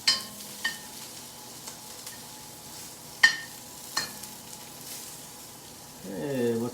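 Carrots and green beans fry in a pan for chow mein, giving a soft steady sizzle broken by a few sharp clinks of a utensil stirring. A voice speaks briefly near the end.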